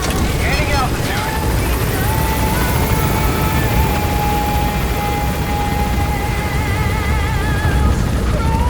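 Helicopter rotors and engine roar loudly and continuously as the aircraft gains altitude in Metal Gear Solid V, a dense, steady whir with faint whistling tones above it.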